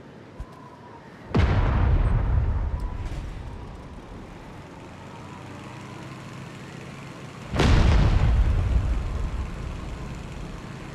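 Two heavy C4 explosions in the game PUBG, each a sudden deep booming blast with a long rumbling decay, several seconds apart, loud and close, with no talking over them.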